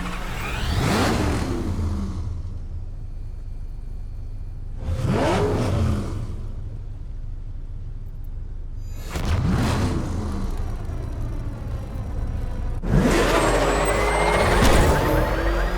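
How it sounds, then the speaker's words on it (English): A military vehicle engine roars during a police pursuit in Batman: Arkham Knight, in four separate loud revving surges with hissing, air-brake-like bursts and quieter engine rumble between them. "I need to track that military vehicle"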